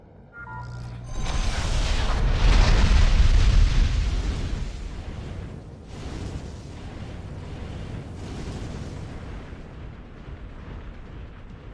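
Shoulder-mounted weapons fire in the Armored Core video game, producing heavy booming blasts and rumbling bursts that swell loudly early on, then settle into a sustained roar of distant explosions and mechanical noise.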